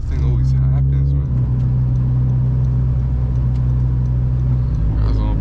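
Honda Civic Si driving in snow on a flat tire, a steady loud low engine drone with a shift in pitch partway through, heard from inside the car.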